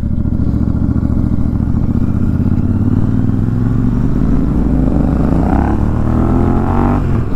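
A Royal Enfield Super Meteor 650 fitted with a Red Rooster twin exhaust pulls away under a rider, its loud thumping exhaust note climbing steadily in pitch as it accelerates, with no talk.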